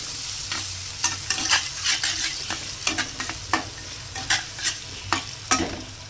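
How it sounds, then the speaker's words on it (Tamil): Spices sizzling as they temper in hot oil, a steady close fry marked by repeated stirring scrapes at an irregular rhythm, with no voices. "இப்போ தாளிச்சு விட்டுக்கலாம்"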